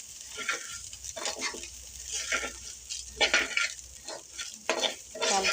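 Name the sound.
rice being fried and stirred in oil for chicken biryani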